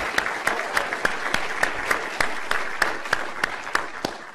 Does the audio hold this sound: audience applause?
yes